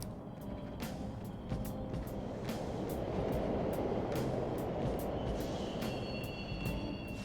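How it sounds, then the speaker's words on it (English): Continuous rumbling roar of subway trains running nearby in the video game Persona 5 Royal, with rhythmic clicks of wheels over track joints and a faint high squeal near the end. "The trains are totally running!"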